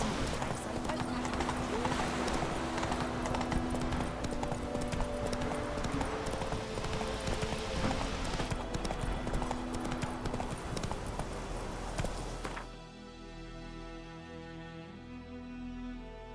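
Roach, the horse in The Witcher 3, trots with a steady, rhythmic clip-clop of hooves under game music and voices, then the hoofbeats stop near the end.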